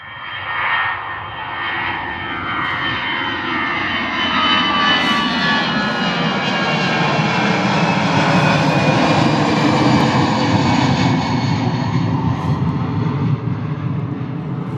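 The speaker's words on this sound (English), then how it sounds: "Next A320 coming at us. Off to Belfast." An Airbus A320 departs Bristol Airport on a foggy morning, its engine roar swelling as it passes overhead and staying loud and broad throughout, with no talk.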